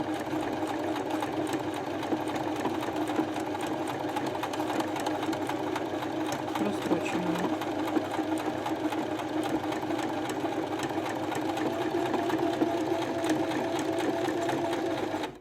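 A domestic sewing machine stitches fabric for a small drawstring pouch, running steadily and continuously at close range with an even mechanical whir throughout, no voices.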